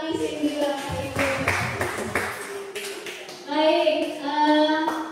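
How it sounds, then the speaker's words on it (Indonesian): Brief burst of clapping from a seated audience at a school training session, rising then fading, with a voice talking over and between the applause. "tepuk tangan dulu sama Miss Cindy, Bapak Ibu"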